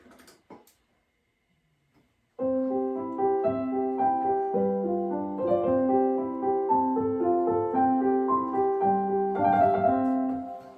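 Soft, gentle piano notes play a slow flowing melody with chords, quiet and close, after a brief moment of near silence.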